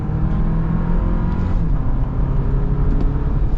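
A 2025 Toyota Land Cruiser under full-throttle acceleration, its engine a steady, loud, continuous drone heard from the cabin with no talk over it.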